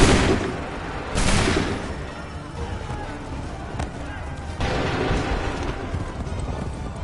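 Musket volleys from soldiers in the Assassin's Creed 3 video game, loud close bursts of crackling gunfire that swell and fade twice over commanding shouts and battlefield commotion.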